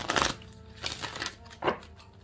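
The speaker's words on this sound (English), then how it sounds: "The wind is strong when you shuffle this deck because the cardstock is so thick." Thick-cardstock oracle cards are shuffled in a few short, soft riffling bursts, quiet and close, separated by brief pauses.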